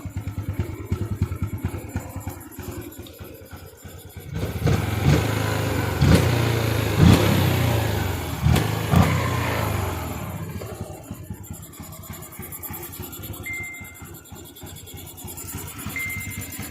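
A motorcycle fitted with a 125 LED cam and its windshield kit removed idles close by, then revs up louder with sharp throttle blips before settling back to a lighter, even idle.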